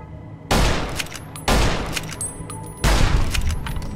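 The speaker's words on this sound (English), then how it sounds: "Shooting you with an unsuppressed gun" Three loud, unsuppressed gunshots in Fallout New Vegas, spaced about a second apart, each a sharp broadband crack with a ringing tail. No one speaks.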